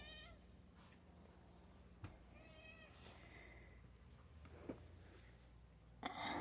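A house cat meows a few times indoors, faint and intermittent against low room noise, with a sharper, louder sound at the very end.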